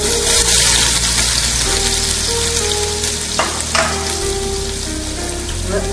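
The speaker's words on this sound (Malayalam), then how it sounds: "എണ്ണ ചൂടായ ശേഷം നമ്മൾ സവാള ഇട്ട് കൊടുക്കുക" Onions sizzle and fry in hot oil in a pan for a Kasargod-style chicken curry, a loud, close, continuous hiss with occasional stirring scrapes and no talk.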